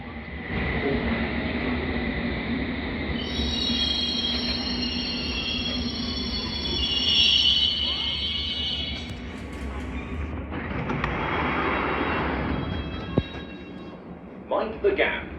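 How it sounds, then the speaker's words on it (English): A London Underground District Line train bound for Richmond rumbles steadily along the track with a long wheel squeal and rattling carriage noise, close and loud, while a recorded voice announcement plays over it. "This is a District Line train to Richmond."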